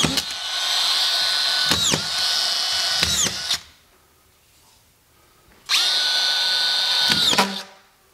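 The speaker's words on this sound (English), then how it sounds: "I have a screw gun that takes collated screws." A screw gun fed with collated screws whirs loudly while driving them into sheetrock, with clicks as each screw advances and seats, then a quiet gap before another strong burst; nearby and alone, with no talk.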